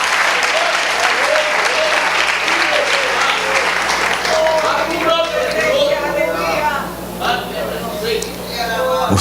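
Loud, sustained applause from a church congregation during a service fills the first half, then thins into scattered clapping as a voice begins speaking over it.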